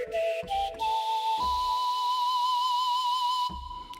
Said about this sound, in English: A lot of whistles.